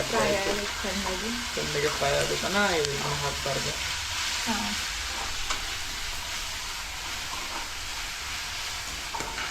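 Onions frying in a pan sizzle steadily and closely, with some brief voice-like sounds in the first few seconds before the crackling hiss continues alone.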